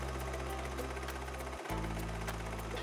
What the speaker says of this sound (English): Now it's time to sew both your waistband and your cuffs into place.